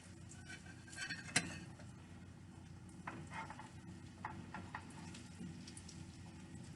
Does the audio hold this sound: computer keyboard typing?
no